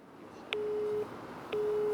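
A telephone busy signal sounds after a call is hung up, two evenly spaced steady tones, each beginning with a faint click, clear and moderately loud over a quiet line.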